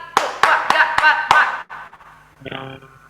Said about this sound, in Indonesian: Kalau kakak bilang 3, semuanya tepuk tangan 5 kali.